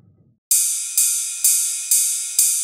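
A ride cymbal loop from a sample library plays after a brief quiet start, with bright, washy strokes repeating about twice a second, each ringing out and decaying before the next hit; no voices.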